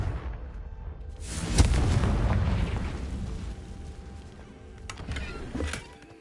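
A Confringo fire spell explodes in Hogwarts Legacy, a sudden loud boom followed by a long, rumbling decay, then a second smaller burst near the end.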